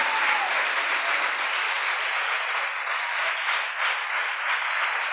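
A church congregation applauds continuously, a dense even wash of many hands clapping that holds steady throughout, heard from a moderate distance with no talking.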